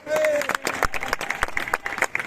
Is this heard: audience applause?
yes